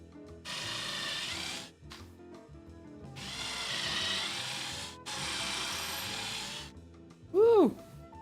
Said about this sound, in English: That drill bit complained a little bit about going through that knot, but otherwise, it took it reasonably well.